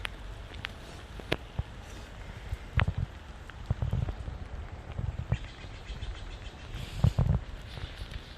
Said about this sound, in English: I know you hate the rain, but come on.